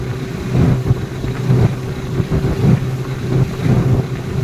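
A Huangjie 40 HP outboard motor on a boat runs steadily at low throttle, a close, rumbling drone that swells a little in pulses, with wind buffeting the microphone.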